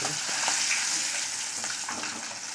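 Pieces of hilsa fish fry in hot oil, giving a dense, steady, close-up sizzle with small crackles throughout and no voices.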